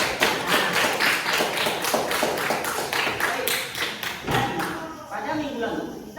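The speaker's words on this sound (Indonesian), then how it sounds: "Bagus, beri tepuk tangan dulu." Classroom of students clapping in a fast, even rhythm, loud and close, with the claps fading out near the end as speech takes over.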